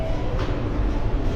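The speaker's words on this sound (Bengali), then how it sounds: "ইন্ডিয়ান মেট্রো, আন্ডারগ্রাউন্ড মেট্রো আর কি।" Underground metro train in India, a steady low rumble of rolling cars filling a short stretch at close range, with no talk over it.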